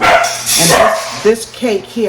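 A dog barks a few times nearby while a person talks over it, the barks short and sharp amid the speech.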